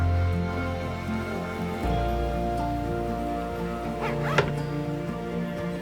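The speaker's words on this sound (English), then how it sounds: "all we have to worry about is opening up that zipper" A clothing zipper on sewn pants is worked open, a brief rasping run near the middle over a steady machine-like hum, with a short scratchy burst close up and no talk.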